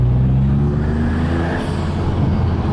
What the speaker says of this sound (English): So, new intake. Oh yes, all of the air noises, the suction sound, obviously the turbocharged engine when you lift off.